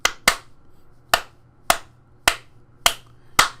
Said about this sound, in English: And if I clap my hands,